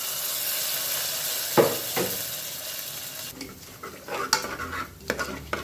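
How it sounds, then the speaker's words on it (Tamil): A hot tempering of dried red chilli and curry leaves poured into mashed horse gram dal, a brief sizzle and knock of the pan followed by stirring scrapes and clinks of a spoon against the pot, close and clear. "இப்போ நம்ம கடைஞ்சி வச்சுருக்க பருப்பில் இதை ஆட் பண்ணிக்கலாம்."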